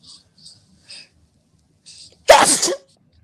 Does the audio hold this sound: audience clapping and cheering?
no